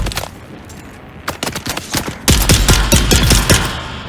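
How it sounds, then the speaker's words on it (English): Gunfire inside buildings in the video game Dune Awakening, sporadic shots at first then a sustained rapid burst, each crack echoing with heavy reverb, loud and close with no talk. "I love the reverb of that gunshot when you're in buildings, that's cool"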